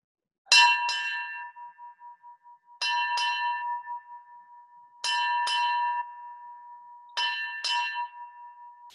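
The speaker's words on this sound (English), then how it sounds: "And now for the memorial tolling of the ship's bell." A ship's bell rings in four evenly spaced pairs of clear strikes at a Maritime Day memorial, each ringing tone lingering before the next double stroke.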